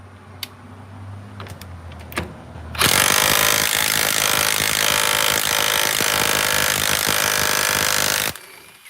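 After a few faint clicks, a DeWalt DCF891 impact wrench bursts into loud, rapid rattling hammering on a bolt for about five and a half seconds, then cuts off abruptly as the bolt snaps.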